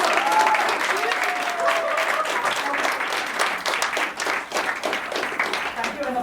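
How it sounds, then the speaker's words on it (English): Loud audience applause at a pageant for its sponsor, dense continuous clapping from a crowd throughout, with voices mixed in underneath. "Give him a round of applause."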